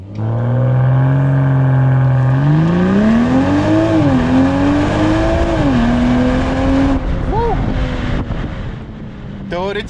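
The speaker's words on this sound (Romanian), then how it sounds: "Bagi în drive, Sport, adică dai schimbătorul spre stânga, frână puternică, accelerație la fund." A BMW M240i xDrive makes a launch-control start at full throttle, its engine roaring up loudly through several rising gear pulls with brief drops at each shift, under wind buffeting.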